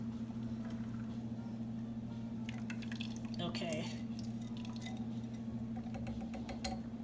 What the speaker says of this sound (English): I'm going to pour it into this pan